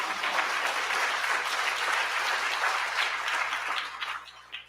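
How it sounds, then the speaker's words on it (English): An audience breaks into sustained applause, dense and steady clapping from a sizeable crowd that carries on for several seconds before thinning out near the end. "that deserves an applause"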